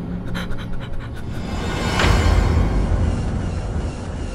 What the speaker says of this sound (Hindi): और किसी के हाँफने की आवाज आती रही।